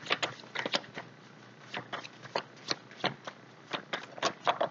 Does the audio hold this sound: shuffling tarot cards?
yes